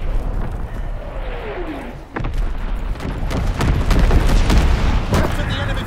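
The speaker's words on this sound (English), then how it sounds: "Incendiary mission commenced." Incendiary bombs burst in a World War II shooter match on the Ardennes map, with a falling whistle followed by a run of rumbling blasts and crackling impacts, loud and dense amid game voice callouts.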